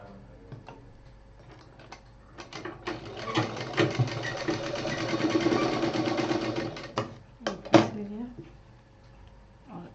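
A sewing machine stitches across the corner of a homemade foldable fabric hanging pouch in a steady, rapid mechanical run of several seconds. Short stop-start bursts come before and after, and someone talks over it.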